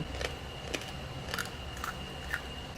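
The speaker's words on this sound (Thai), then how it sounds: "สามารถเคี้ยวได้ดังกรอบๆเลยค่ะ ฟังค่ะ ฟัง ฟังการเคี้ยวนะคะ" Crisp, thin fish-sauce fried pork belly being chewed up close, giving a handful of sharp crunchy bites spaced about half a second apart over a soft background hiss, with no talking.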